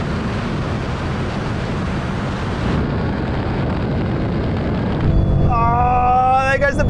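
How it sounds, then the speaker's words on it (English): A Ducati V4R motorcycle in a rolling drag race against a BMW M5 and Nissan GT-R blasts past under steady wind roar, its engine note climbing loud and high through quick gear changes near the end. "And here comes the bike."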